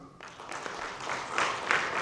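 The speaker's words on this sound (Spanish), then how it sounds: "Denles aplausos, Señor." Applause from a congregation during a live evangelical church service, a broad patter of clapping that swells louder toward the end, with faint voices mixed in.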